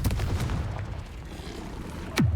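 A Confringo fire spell blasts in Hogwarts Legacy combat, a sustained rumbling burst followed by a sharp rising whoosh of a second cast near the end, loud and close with no talk.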